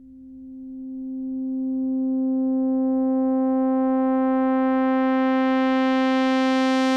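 A synthesizer tone with an 8-second attack envelope, one steady sustained pitch that swells from quiet to loud while growing steadily brighter and buzzier, heard alone.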